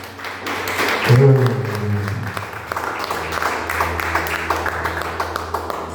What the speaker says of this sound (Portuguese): Senta aplaudindo a Jesus